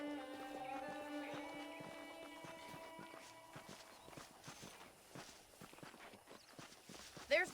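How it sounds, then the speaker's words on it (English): Saddled horses' hooves clop faintly in Red Dead Redemption on Nintendo Switch, a soft, irregular patter beneath quiet sustained music tones. "The horses are saddled up over here."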